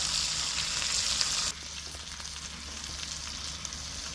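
Oyster sauce hits a hot pot with a loud, steady sizzle, hissing at full strength and then easing to a softer, continuous fry after a sudden drop partway through.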